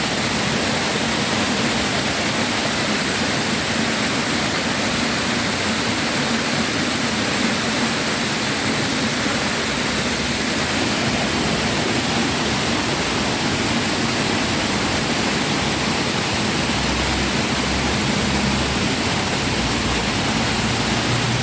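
Loud, steady rushing water from the mountains fills the whole stretch, a dense broadband roar of a torrent pouring through a flood control channel, with no voices.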